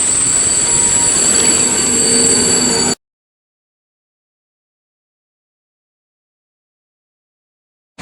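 A Regio passenger train moves through a station in Wronki, Poland. Loud rumbling with squealing wheels lasts about three seconds, then cuts to silence.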